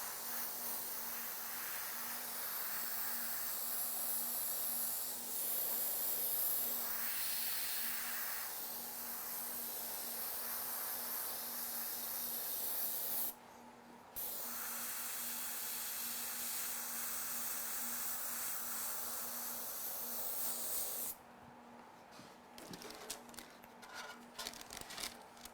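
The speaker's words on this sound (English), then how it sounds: "So when I do the airbrushing, I try to, you know, recreate that kind of look" Airbrush spraying paint onto a motorcycle fuel tank, a faint steady airy hiss with a low constant hum that stops briefly twice, then gives way to quieter intermittent spraying.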